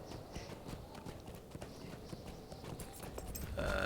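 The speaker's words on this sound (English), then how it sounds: "since I got onto the traveling horse" Horse hooves clip-clop in a steady rhythm as a traveling horse is ridden along a path in The Lord of the Rings Online, moderately loud and uninterrupted by talk.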